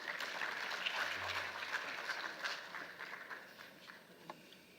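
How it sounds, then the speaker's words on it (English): Audience applause at an African agricultural technology conference, a steady dense patter of many hands clapping at moderate distance, fading slightly toward the end with no talk over it. "I think we can give him a warmer round of applause."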